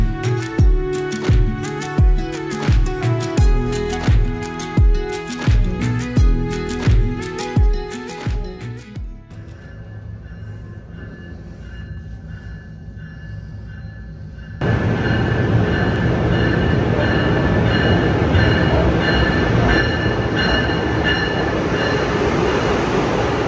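An Amtrak Acela train rides along, heard from inside a car: rhythmic wheel clacks and tonal rail rumble at first, fading to a quieter hum, then a louder steady rushing roar as speed builds.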